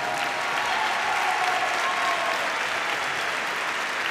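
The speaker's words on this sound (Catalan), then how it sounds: "Un fort aplaudiment per tots ells" Steady applause from the audience at a university graduation ceremony greets the newly named double-degree graduates, a full, even roar of clapping with no speech over it.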